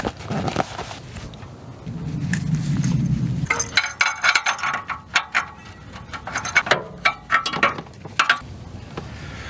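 A ratchet tightens a new OEM oxygen sensor on a Subaru, giving a close series of quick metallic clicks and irregular clanks after a brief low rumble, with no talking.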